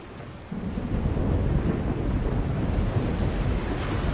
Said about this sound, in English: Storm front. West. Heading our way. Looks like a right old bugger, too.